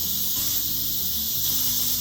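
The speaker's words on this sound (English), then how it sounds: "I'm going to release the pressure by pushing it down." Steam hisses steadily from the pressure release valve of an Instant Pot while mashed potatoes cook, a continuous loud venting rush that lasts the whole moment with no talk.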